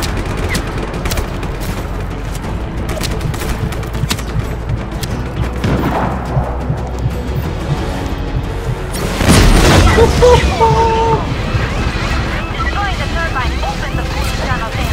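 Gun firing and booming explosions in the Just Cause 3 video game, loud blasts over a dense action background with a heavier burst midway, and a voice talks over it.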